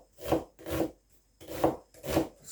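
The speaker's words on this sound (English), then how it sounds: "So I'm gonna just slice some red onion." A knife slicing red onion on a cutting board, four distinct rasping strokes in an even rhythm, close and fairly quiet with short silences between them.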